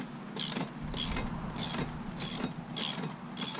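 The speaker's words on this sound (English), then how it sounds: "Just pull your prop nut off." Ratcheting clicks from a socket wrench loosening the prop nut on an outboard boat motor, several short bursts of mechanical clatter repeating in a steady rhythm, close and alone with no talking.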